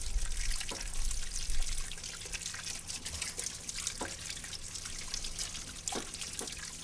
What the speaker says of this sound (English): simply take a garden hose and rinse it off to get all the residue off